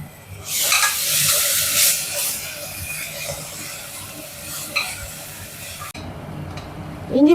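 Ginger and garlic sautéing in a pan over browned onions for tomato rice, a steady broad sizzle with stirring scrapes that drops off near the end, with faint talk in the background.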